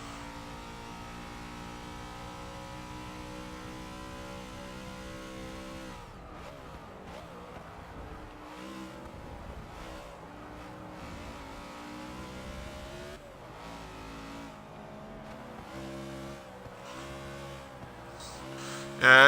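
In the Forza 6 video game with NASCAR cars, a race car engine holds full throttle, a steady buzzing drone that shifts pitch partway through as gears change, with faint tire and traffic noise and a sharp bang at the end.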